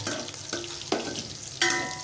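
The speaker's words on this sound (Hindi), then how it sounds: "तो ये जीरा और प्याज का तड़का होगा" Cumin and onion sizzle in hot oil in a pan as a tempering for dal, with a few sharp clanks of a utensil stirring against the metal.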